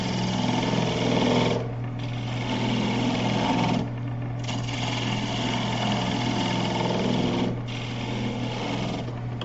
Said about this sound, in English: Do a little cutting down in this V with the skew, sort of define the bottom of this thing.